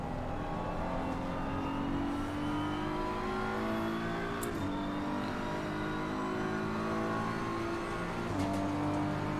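A McLaren Evo GT race car engine in Assetto Corsa Competizione at Monza, revving steadily at high pitch and rising through gears with brief shift dips, loud and continuous with no talk.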